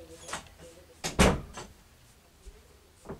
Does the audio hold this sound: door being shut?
yes